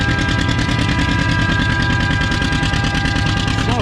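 Oliver 70 Standard-era pulling tractor engine roaring loud and steady at the Lynden spring tractor pull, a dense rumbling, rapid-firing drone that holds without a break throughout.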